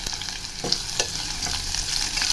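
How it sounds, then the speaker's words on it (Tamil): Onions sautéing in oil in a pan, a continuous close sizzle broken by several quick spatula stirs, no speech. "வெங்காயம் நல்லா பொன்னிறமாக வதங்கணும் அப்படின்னு அவசியம் இல்லை, கொஞ்சம் வதங்கினாதே போதும்."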